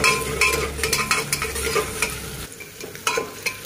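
Onions sizzle in hot oil in a home kitchen while a spoon scrapes and stirs the pan, a loud close frying hiss broken by repeated stirring knocks.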